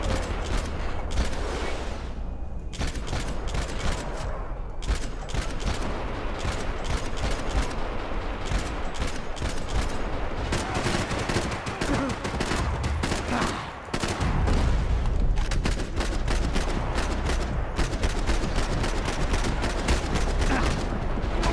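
Sustained gunfire from a Max Payne 3 firefight during a sniper rifle section, with dense rapid shots and bursts running almost continuously at high loudness, briefly dipping near the middle before resuming.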